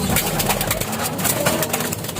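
Young fledgling pigeons cooing in a loft, soft low coos repeating over a steady noisy background with faint engine hum.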